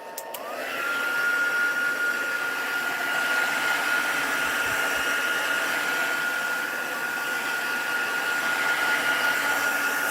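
A hair dryer blowing over watercolour masking fluid on paper, a steady loud whoosh with a high motor whine that runs unbroken for about ten seconds, with no talking.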